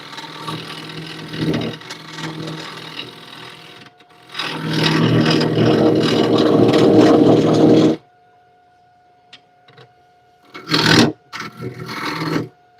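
A woodworking tool hollows out a crack in a piece of timber, giving loud grinding and rasping bursts that stop and start, with short sharp scrapes near the end.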